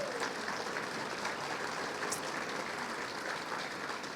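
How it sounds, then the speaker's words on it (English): A large crowd claps for special guests at a chamber of commerce annual meeting, a dense and even wash of applause heard from some distance that holds steady throughout. "Give them all a big round of applause"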